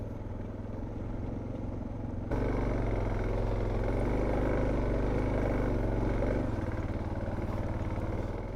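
A motorcycle rides through a river along a ranchers' route in Sonora, Mexico, its engine a loud, close, steady drone that swells abruptly partway through and eases slightly near the end.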